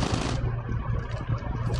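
Rapid gunfire from a GTA video game match fills the clip, a dense, continuous burst of shots at steady loudness throughout, with no speech over it.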